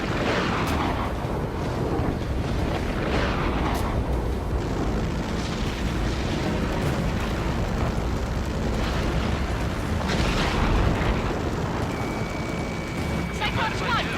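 Missile explosions in the Ace Combat 7 video game, a dense wash of booming blasts and rumbling jet noise sustained throughout, with scattered sharp pops and radio chatter voices mixed in.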